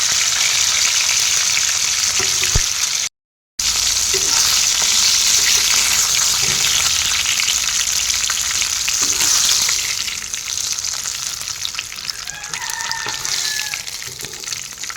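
Pieces of fish sizzle steadily in hot oil in a pan for a carrot fish curry, a continuous bright crackle with a short dropout early on, easing slightly toward the end.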